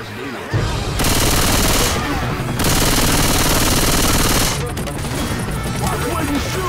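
Sustained automatic gunfire rattles loudly in Left 4 Dead 2, breaking off briefly twice before resuming, with a voice talking faintly underneath.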